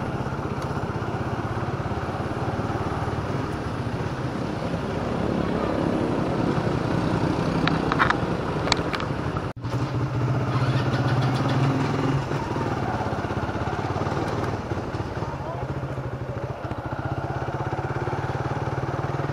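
A Vespa GTS 300 Super scooter engine runs steadily and close by for the whole stretch, a continuous mid-pitched drone with a brief dropout partway through, and no talk over it.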